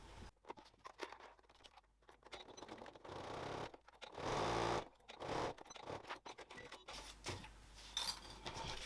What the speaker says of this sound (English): I'm going to stitch across there with a 1 centimetre or 3/8 of an inch seam allowance